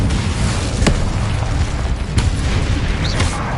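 Loud booming blasts from the Confringo explosive spell in the Hogwarts Legacy video game, two sharp bursts ringing out over a dense, rumbling battle din with no talking.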